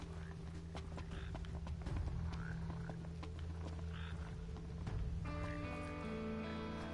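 Frogs croak in a Final Fantasy 15 game scene, with repeated croaks over a steady low ambient hum and game sounds, and a musical tone entering near the end.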